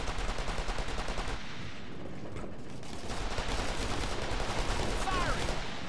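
Sustained gunfire in the military shooter Operation Flashpoint: Red River, with rapid automatic bursts and scattered shots rolling on steadily for several seconds, dense and loud throughout.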